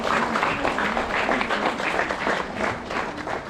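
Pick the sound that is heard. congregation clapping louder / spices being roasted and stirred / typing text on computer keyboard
congregation clapping louder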